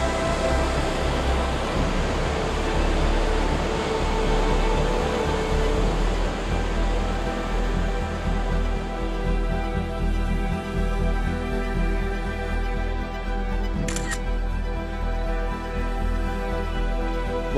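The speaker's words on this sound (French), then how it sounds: "Voilà une autre belle cascade." A waterfall on a Pyrenees mountain trail pours in a steady, loud, full rush of broadband water noise that holds unchanged throughout, with no voices.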